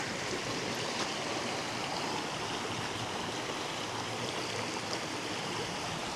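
Stream water rushing steadily past the remains of an old dam on Dartmoor, a dense, continuous broadband wash close by with no pauses and no voices.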